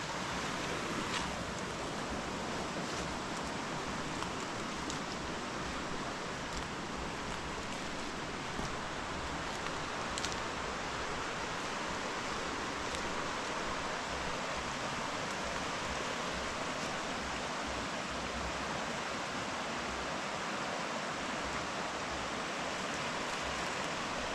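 Fresh water from a waterfall meets the tidal sea, a dense, loud, continuous rushing roar that stays steady throughout with no speech.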